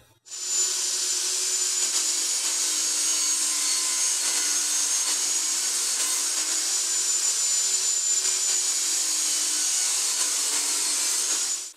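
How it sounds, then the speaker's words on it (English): A power saw cuts the screw-holed ends off a piece of particle board salvaged from a desk, giving a continuous loud, high whining roar that runs steadily for about eleven seconds without pause. "I am going to cut off the ends of this where the screws and stuff were that held this desk together"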